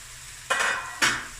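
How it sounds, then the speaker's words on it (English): Two quick stirring strokes through onions frying to golden brown in a pan, each a bright scraping sizzle burst over a low steady background hiss, no speech. "while I'm stirring the onions"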